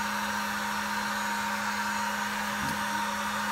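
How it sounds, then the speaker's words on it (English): A heat gun blows a steady, even airflow roar onto a circuit board, with a constant hum running the whole time and a faint click near the end. "I'm not going to get the heat gun too hot, you know, or too close to the board."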